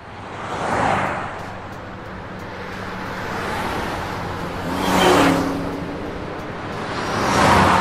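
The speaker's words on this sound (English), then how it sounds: "Finnish stuntman Vesa Kivimäki is behind the Guinness Book speed record on a BMW, in an unusual way, on two side wheels" A BMW driven at over 186 km/h balanced on two side wheels along an airport runway, a broad rushing roar of engine, tyres and wind that swells and fades in waves as it passes.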